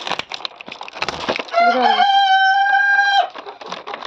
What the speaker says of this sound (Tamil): அங்கால இருந்த கோழி இதுக்குள்ள வந்துருக்கு